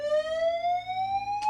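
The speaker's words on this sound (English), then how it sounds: "They just put the smoke alarm off." A smoke alarm blares a steady, loud electronic tone with bright harmonics that slowly rises in pitch, continuous throughout with a brief noisy burst near the end.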